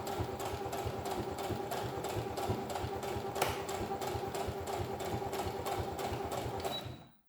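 A sewing machine runs steadily while stitching along the edge of a zipper, giving a fast, even mechanical chatter that carries on for several seconds and then stops.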